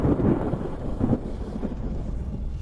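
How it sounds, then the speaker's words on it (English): Deep rumbling thunder of a ninefold lightning tribulation, a broad low roll with heavier swells early on, loud and sustained without pause. "The ninefold lightning tribulation has arrived."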